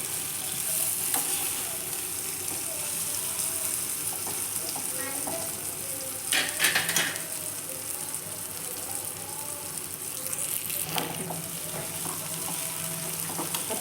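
Onion tempering fries in a pan with a steady close sizzle and crackle, with a few louder bursts of stirring and spattering along the way.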